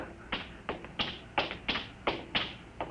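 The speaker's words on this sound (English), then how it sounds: "I hear somebody coming." Footsteps tap steadily on a hard surface, about eight even steps in three seconds, fairly quiet and close, with no voices.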